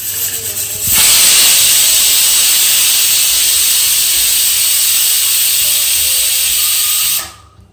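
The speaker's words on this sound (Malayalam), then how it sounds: "ഇനി പ്രഷർ കുക്കറിലൊരു രണ്ട് വിസിൽ വേണ്ടി വരും" A pressure cooker on the stove lets off a loud, steady whistle of hissing steam for about six seconds, used while cooking kaya (raw plantain) and parippu (lentil) erissery, then cuts off abruptly.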